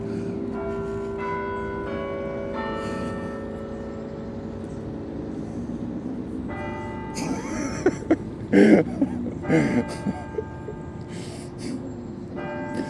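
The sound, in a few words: church bells ringing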